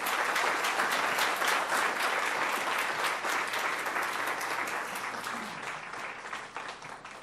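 An audience at a Palm Beach County school district recognition event applauds Meadow Park's principal and former assistant principal with dense, sustained clapping that fades gradually over several seconds.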